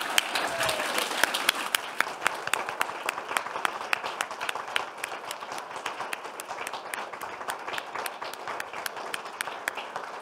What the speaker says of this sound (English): Let's give a huge round of applause for all our track leads.